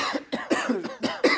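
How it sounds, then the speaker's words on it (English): A man coughs in a quick run of several harsh, close bursts, closely spaced and loud, with no other sound around them. "He had a cough"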